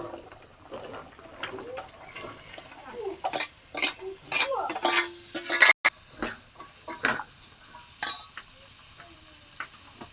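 Papaya pieces are dropped into a pan of frying onions and stirred, with sharp clinks and scrapes of a spoon over light sizzling, loud bursts and pauses, and a voice speaking at times.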